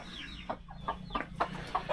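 Chickens cluck in a backyard coop yard with cages, several short clucks and calls spaced through two seconds over a low steady hum, with a rooster among the flock.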